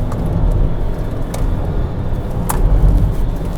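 A 2026 Mercedes-Benz GLS450 4Matic SUV driving through a continuous steering test, heard from inside as a steady low engine and road rumble with faint tire noise, alone without talk.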